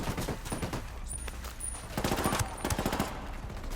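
Rapid gunfire in the game Ghost Recon Wildlands, dense bursts of automatic shots crackling continuously through the scene, loud and near with sharper impacts clustered toward the end.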